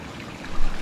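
Spring water runs from a cow-mouth stone spout at Raireshwar fort, a brief, continuous gurgling trickle with a slight swell near the end.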